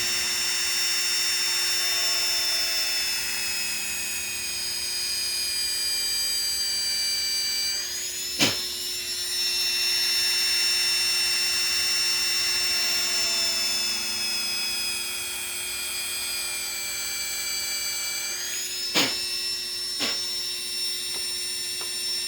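A steady high-pitched drill whine runs throughout, with a few brief clicks and knocks as the bit catches while drilling into the headrest of a 1/6 scale time machine model; no talking.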